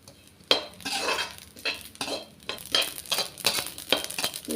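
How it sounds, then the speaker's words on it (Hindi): Poppy seeds roasting in a pan with faint, scattered crackles under repeated scraping and stirring strokes, close and fairly quiet. "खसखस में हल्की सी चटर पटर की आवाज़ आ रही है"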